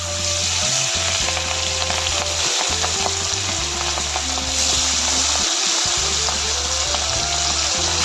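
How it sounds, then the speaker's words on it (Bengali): Hilsa fish pieces fry in a pan of hot oil with a loud, dense, unbroken sizzle and spatter, close up, over a steady low hum and occasional faint clinks. "মাছগুলো ফ্রাই হয়ে গেছে"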